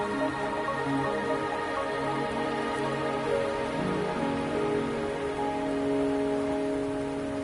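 Steady rain falls in the video game Wuthering Waves, a continuous patter of drops on surfaces, heard alone under a soft layer of tonal game ambience.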